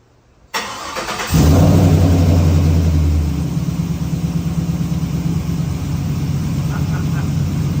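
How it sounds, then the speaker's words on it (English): A car engine fitted with Flashark Racing stainless headers and a cold air intake cranks and fires up with a loud burst, then settles into a strong, steady idle close by. "So I'm gonna go ahead and fire it up, see what it sounds like."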